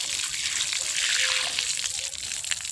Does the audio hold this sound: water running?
yes